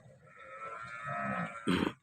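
An Ariya cow gives one long, close, drawn-out moo that rises slightly in pitch, ending with a brief rough burst of noise.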